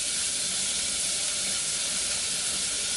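Garlic, onions and red and green peppers sauté in a hot pan, giving a continuous, even sizzling hiss that holds steady throughout with no break and no voices.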